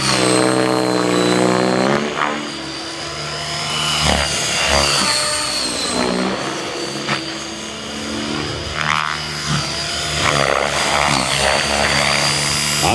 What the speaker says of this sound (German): Hier ist er, Jill Rothmeier mit Velocity 90, Flyballers, ganz klar, 90er Heli.